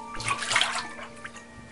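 Water splashing and running as blood is washed off a pair of shoes in The Witch House, a close, bright rushing sound that swells and then trails off into gurgles.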